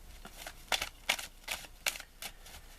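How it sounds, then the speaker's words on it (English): Crisp riffling of playing cards being shuffled, six quick bursts in a steady rhythm, close and fairly quiet with no talking. "The dealer will take all the cards and shuffle them."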